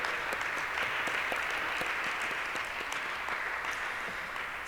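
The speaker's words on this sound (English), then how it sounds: "Let's have another round of applause for that powerful panel" Conference audience applauding after a panel on racial equity in education, steady moderate clapping from a sizable room, continuous and even throughout, with no voices over it.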